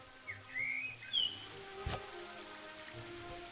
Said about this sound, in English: The smoke from Arbor's pipe seems to be calming the bees.